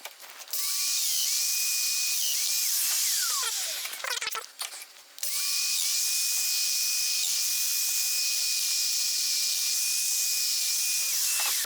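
Festool Domino DF500 joiner cutting a mortise slot in wood, a loud high-pitched motor whine running steadily, dropping out briefly mid-way with a rough cutting burst, then resuming at full pitch.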